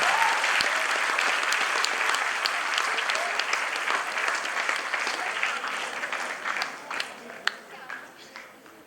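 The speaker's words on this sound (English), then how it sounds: "The hall resounds with your wholehearted applause as we felicitate Mr. Bansal" A large audience in a school hall applauds during a Model United Nations felicitation, a broad, sustained roar of many hands clapping that holds steady, then slowly thins toward the end with a few sharper individual claps.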